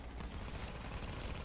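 Turret gunfire in The Division video game, a dense, steady roar of rapid firing that sounds somewhat distant and muffled and is heard alone throughout.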